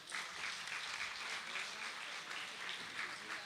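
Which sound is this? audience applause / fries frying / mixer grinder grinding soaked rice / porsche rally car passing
audience applause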